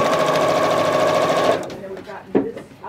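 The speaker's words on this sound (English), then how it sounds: "when you're sewing, especially when you're sewing points, you can see where your needle's coming down on that point" A sewing machine stitching quilt sampler block pieces, a loud close steady whir that runs evenly and then stops partway through, after which a person talks with some faint handling noise.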